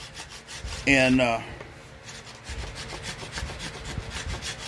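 A raw flint stone tool rasps green sapling wood for a bow stave, making repeated close scraping strokes in a steady rhythm, with a brief spoken word near the start.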